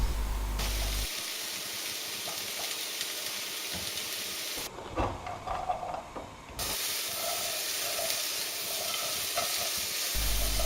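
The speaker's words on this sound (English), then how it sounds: "pile a good load in and turn on some heat, and needs a jolly good stir." Onions sizzle loudly in a hot pan as they are stirred, a dense continuous hiss that briefly drops to a quieter, rougher scraping stretch in the middle before the full sizzle returns.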